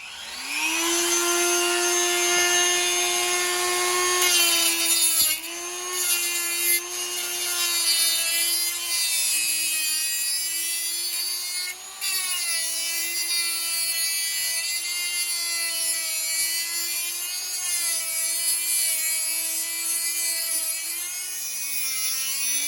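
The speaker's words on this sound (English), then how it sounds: "we removed it, and we had to cut it in half, pretty much with a Dremel, and that's what we're going to do" A Dremel rotary tool whines at a high, steady pitch while cutting slots into a cam chain tensioner ring from a 2000 Kawasaki Vulcan 1500, with brief dips as it bites, close and loud throughout.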